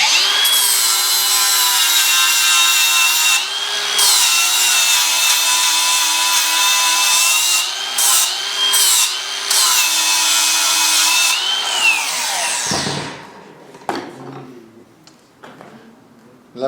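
Four steel pieces for a Damascus blade having their mating faces cleaned on a power grinder or sander before forge welding, a loud continuous abrasive whine with brief dips, cutting off near the end to quieter workshop noise.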